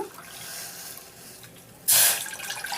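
Quiet room tone, then a sudden loud rush of water pouring from a tap into a cooking bowl, splashing steadily for about a second before easing slightly.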